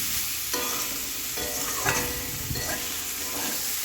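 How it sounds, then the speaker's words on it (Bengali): Drained boiled potatoes being stir-fried with spices in a pan, a steady sizzle broken by several scraping stirs of the spatula, close and fairly loud, with no talking. "জল ঝরানো আলুগুলোকে দিয়ে মশলার সঙ্গে ভালো করে কষিয়ে নেব"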